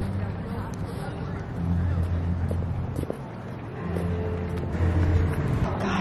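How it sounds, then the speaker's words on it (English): A car drives toward a sports facility on a game day, heard from inside as a steady low road rumble with wind buffeting that swells and eases slightly. "We're driving to the facility right now."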